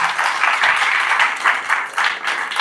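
A church congregation applauding, a dense crowd of clapping that swells and dips in short waves across the whole stretch, with faint voices mixed in.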